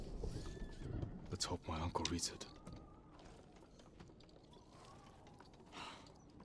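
A horse neighs and whinnies in the Ghost of Tsushima video game, its calls rising over a busy bed of clopping, creaking and mechanical sounds, with a loud burst near the middle and another cry toward the end.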